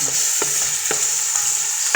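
Chicken pieces, washed in vinegar and coated in flour, frying in hot oil with a steady bright sizzle and a few soft stirring knocks close by, no talking.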